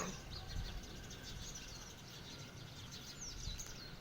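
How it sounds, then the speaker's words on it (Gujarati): Birds chirp in the calm early morning after sunrise, faint scattered tweets over quiet outdoor ambience. "પક્ષીઓનો કલબલાટ સંભળાતો હોય।"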